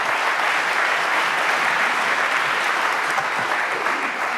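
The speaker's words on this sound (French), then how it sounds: "Vous les applaudissez encore une fois," An audience at a business conference on artificial intelligence applauds, a dense, sustained round of clapping filling the room, loud and steady throughout.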